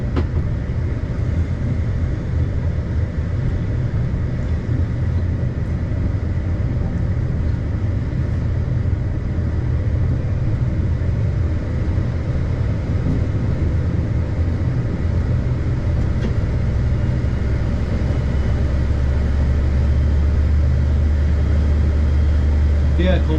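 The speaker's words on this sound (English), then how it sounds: "The aircon sounds impressive, but it really only is the aircon that's speeding up." Air conditioning in the driver's cab of HST power car 43045 makes a loud, steady whooshing hum over low rumbling, and a deeper drone builds near the end as it speeds up.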